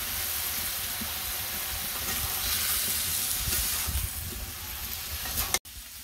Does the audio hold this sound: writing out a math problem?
no